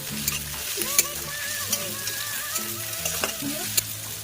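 Onions and green chilies, salted, fry in a pan for a fish curry, a close steady sizzle punctuated by regular scraping stirs, with a faint tonal sound in the background.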